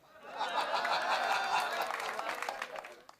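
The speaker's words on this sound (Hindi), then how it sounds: "आपकी तालियां यकीन जानिए थोड़ी सी कमजोर है" An audience at a Hindi comedy poetry gathering gives a soft, diffuse round of applause that swells and then thins out, heard fairly far off with a few scattered laughs and murmurs.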